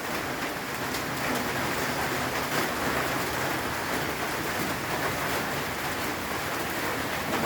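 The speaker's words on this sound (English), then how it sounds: "maybe by the afternoon this rain will stop" Steady, dense rain falling and pattering on surfaces, a constant loud wash with no voices, continuing evenly throughout.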